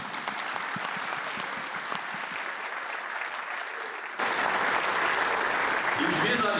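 Congress audience applauding its supporters, a sustained wash of clapping, then a sudden louder, closer burst of applause partway through, with some voices mixed in.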